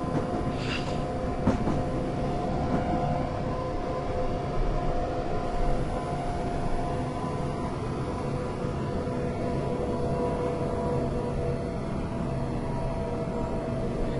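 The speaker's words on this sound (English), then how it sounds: "As we coast into our platform, with our train being ridiculously long" A steady, dense rumble of a very long train coasting into a platform in Train Simulator 2013 on the London to Brighton route, droning on without a break, with a faint hum and a few soft clicks over the low roar.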